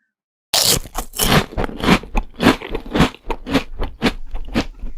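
Crunchy food being bitten and chewed after a dip in vinegar, a run of loud, close crunches repeating in a steady rhythm for several seconds with no talking.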